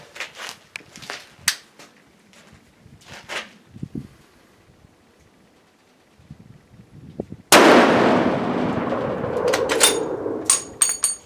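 A single very loud close gunshot from a .450 Rigby dangerous-game rifle, a sudden blast with a long rolling echo. It follows several seconds of quieter handling clicks and rustles and is followed by a few sharp knocks.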